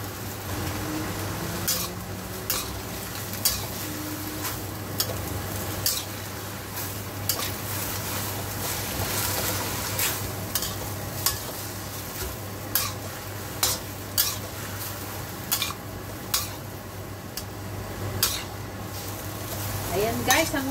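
Morning glory stir-frying in a hot pan, a steady sizzle with repeated sharp clinks and scrapes of a utensil against the pan at an even rhythm, close and loud, with no talking.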